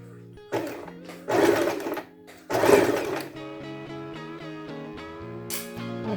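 A sewing machine stitches fabric for a beach cover-up in short bursts, two loud whirring runs separated by pauses, then softer intermittent stitching, close up with no talk.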